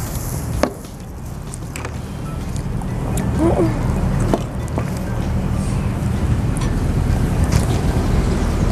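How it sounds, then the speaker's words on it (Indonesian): Strong wind outdoors at a hotel breakfast area rumbles steadily against the microphone in a low, continuous roar, with faint clinks and a brief voice under it. "Kencang banget anginnya."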